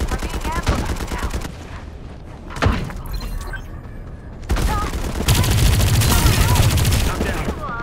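Bursts of gunfire crackle through an ambush in the Farlight 84 video game, with dense rapid fusillades and sharp impacts that come in two loud stretches, the second longer and heavier.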